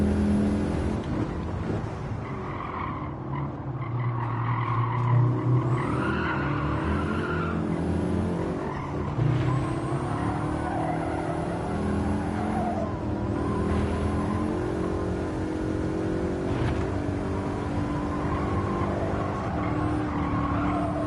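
A race car engine in a racing video game drones loudly and steadily for the whole stretch, rising and falling through the corners with faint hints of tire squeal.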